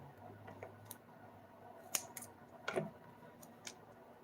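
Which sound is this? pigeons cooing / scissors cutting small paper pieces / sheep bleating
scissors cutting small paper pieces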